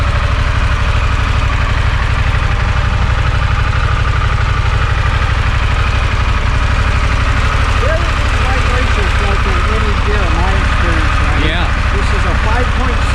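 A 2021 Harley-Davidson Pan America motorcycle engine runs with a steady, loud low rumble close by, while someone talks over it throughout.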